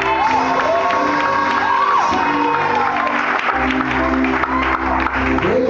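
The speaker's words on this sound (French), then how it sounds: "Est-ce qu'on peut acclamer le Seigneur?" Church congregation cheering and applauding in acclaim during a French-language worship service, a loud sustained wash of clapping, whoops and shouts over music, with voices mixed in.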